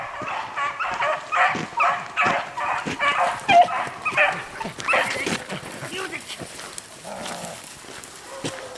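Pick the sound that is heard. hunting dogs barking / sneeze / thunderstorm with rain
hunting dogs barking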